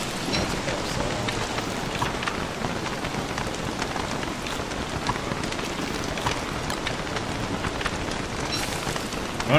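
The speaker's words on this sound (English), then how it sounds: "I'm gonna research this rain a bit later." Steady rain in Don't Starve patters continuously on the ground, an even hiss of drops that stays at one level throughout.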